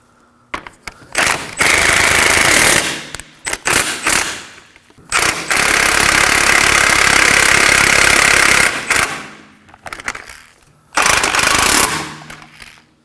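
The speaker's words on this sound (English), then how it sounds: "Now that we have the bolts in place, we're gonna snug them down." A pneumatic impact tool drives bolts on a 2014-2020 Acura MDX rear shock and spring assembly, loud close rattling bursts of a few seconds each, separated by short pauses.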